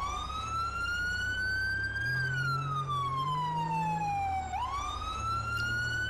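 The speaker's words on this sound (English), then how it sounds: "so we'll turn our lights and sirens on" An ambulance rapid response car siren in the video game GTA 5, a loud continuous wail that sweeps slowly up and down, then switches abruptly to a quicker rising tone near the end, heard alone without talk.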